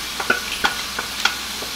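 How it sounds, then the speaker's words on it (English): Tomatoes stirred into cooked meat in a hot frying pan for a Greek-style dinner, heard as close, rhythmic scraping stir strokes about every third of a second over a low, steady sizzle. "I'm going to go ahead and add in my tomatoes"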